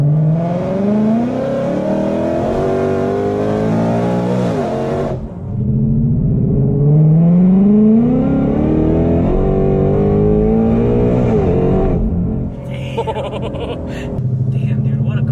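An 1100 horsepower Shelby GT500 on its stock engine revs hard toward 8800 RPM, a loud, continuous rising roar that drops briefly and then climbs again, with close engine noise throughout.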